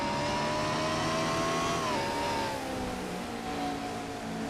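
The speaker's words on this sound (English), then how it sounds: "Now through turn 5, you're on board Jessica Shelton's car." On-board engine of a Castrol GTX Cup race car in a sim racing game, a loud steady high-revving drone with a pitch that dips around a turn and then holds, no talk over it.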